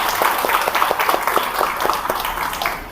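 A small crowd at a Zumba fitness class claps steadily and enthusiastically for a few seconds, the applause fading slightly toward the end.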